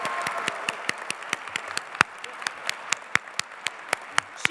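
Scattered, uneven clapping from an audience at a graduation ceremony, individual sharp claps ringing out in an irregular rhythm rather than a dense roar, fairly close and alone without talk.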